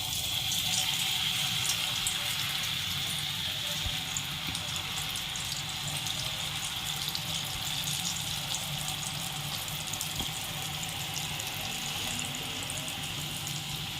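Paneer murukku fries in a pan of hot oil, a steady soft bubbling sizzle that stays constant and fairly faint, with no talk.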